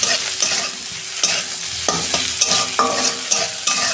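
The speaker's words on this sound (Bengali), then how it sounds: "2 মিনিট পেঁয়াজটা আমি ভেজে নেব।" A single chopped onion fries in hot oil with a little salt, a constant close sizzle broken by repeated scraping strokes of a spatula stirring the pan, with no voices.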